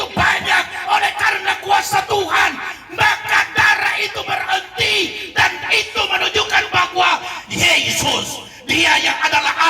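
A street-side crowd at an outdoor Christian revival sermon roaring and cheering in loud, surging waves of yells and whoops, sustained throughout with a few short dips between bursts.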